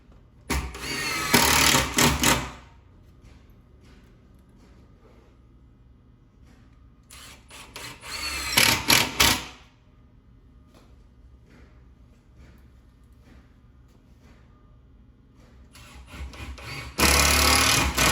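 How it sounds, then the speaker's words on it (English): A power drill drives screws into the corners of a cedar picnic table in three separate loud bursts, each lasting about two seconds, with quiet gaps between them. "we'll use another 4 screws and we'll secure all 4 corners again to keep it square now"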